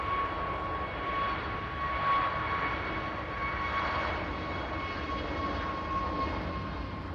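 Ryanair jet airliner arriving from Rome at Manchester Airport, a faint, distant engine drone with a thin steady whine, low and even throughout with no talking.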